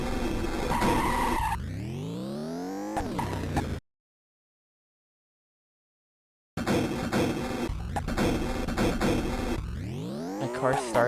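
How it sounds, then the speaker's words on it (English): Racing car in the GameCube title Midway Arcade Treasures 3 skidding and spinning out, loud tire squeals sweeping up and down with engine whine, broken by a few seconds of dead silence before another skid. "the car is so prone to spinning out"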